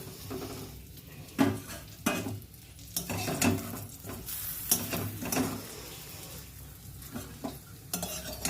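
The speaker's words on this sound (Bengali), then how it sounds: "বেশি আমি ভাজা চোঙাই না, হালকা হালকা করে ভাজি" Food frying lightly in a pan, a continuous soft sizzle broken by repeated scraping and clinking of a utensil stirring against the pan.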